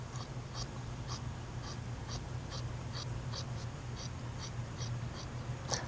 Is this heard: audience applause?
no